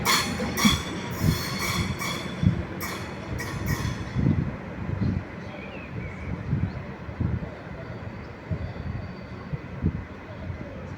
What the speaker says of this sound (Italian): Treno in transito al binario 7.